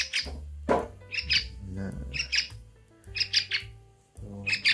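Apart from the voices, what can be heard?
young trucukan (yellow-vented bulbul) bird chirping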